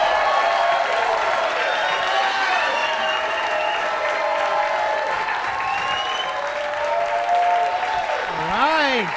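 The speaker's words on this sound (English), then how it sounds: "Give him a round of applause." A stand-up comedy audience breaks into loud, sustained applause for a comedian taking the stage, dense clapping from a large crowd holding steady throughout, with a voice calling out over it near the end.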